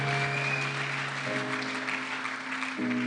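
A church congregation clapping together in praise, a dense steady applause under sustained organ or keyboard chords that shift pitch twice.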